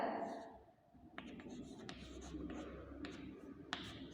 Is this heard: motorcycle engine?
no